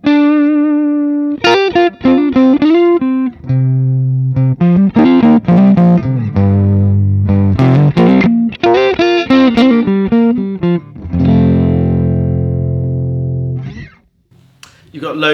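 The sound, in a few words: Paul Reed Smith semi-hollow guitar, neck position, tapped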